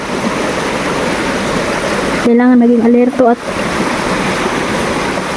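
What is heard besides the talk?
river flowing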